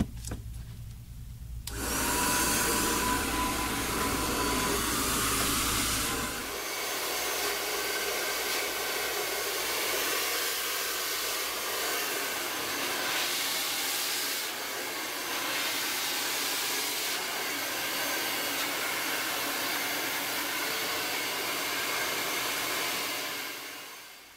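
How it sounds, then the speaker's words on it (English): A loud, steady whoosh of a high-powered Amika blow dryer running continuously, with shifts in tone as the airflow changes, no talking. "we're going to be using a high-powered blow dryer"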